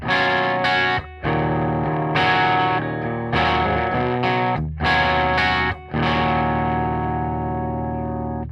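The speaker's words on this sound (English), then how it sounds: "I'm going through the classic gain channel of my Marshall DSL-40" Electric guitar, a Cort M600, played through the classic gain channel of a Marshall DSL-40 amp, slightly broken up: loud sustained distorted chords with brief gaps between strums, close and alone.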